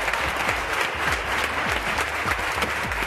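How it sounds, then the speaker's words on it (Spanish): Steady studio audience applause on a Spanish television show, a dense, even patter of many hands clapping close by with no talk over it. "Un aplauso para este trío."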